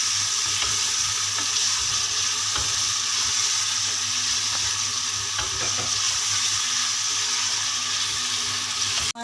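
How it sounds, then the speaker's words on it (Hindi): Onions with ground ginger-garlic paste frying in a pan for aloo gosht, a loud continuous close sizzle with occasional stirring scrapes, no talk. "अब ये प्याज नरम हो गई है और इसमें अब मैं अदरक लहसुन पिसा हुआ डालूँगी। इसको थोड़ा सा भून लूँगी।"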